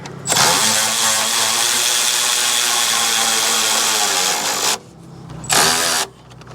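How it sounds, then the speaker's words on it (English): Power tool tightening the alternator adjuster bolt on a Toyota Camry 2.2L: a loud continuous whirring drive run for about four seconds, a brief pause, then a second shorter burst, close and alone. "Now we're going to tighten this adjuster bolt until we get the right tension on the alternator."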